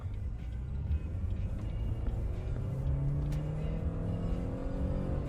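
A car out on a test drive: close engine drone that rises steadily in pitch as it accelerates through the gears, with a continuous road and motor roar and no talking.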